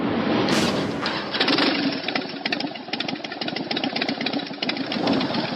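A Harley-Davidson motorcycle engine rumbles loudly nearby, with a throaty, pulsing idle and short revs.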